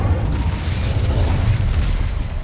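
A fire spell cast in Hogwarts Legacy gives a loud, continuous roaring whoosh of flame, heavy in the low end and steady for a couple of seconds with no voice over it.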